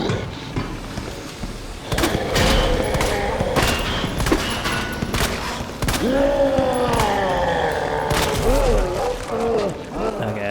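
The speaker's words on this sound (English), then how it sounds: "I think I just needed to shoot it when he was down" Rapid gunshots ring out in a Resident Evil 2 game, fired in clustered bursts with sharp, repeated cracks. Growling creature noises and game effects sound between the shots, and a player talks over the action.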